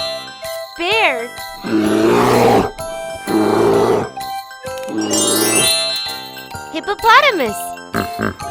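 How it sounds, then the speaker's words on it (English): A bear growls in three deep, rough, roaring bursts of about a second each, spaced over a tinkly musical backing with short jingle accents in between. "Bear."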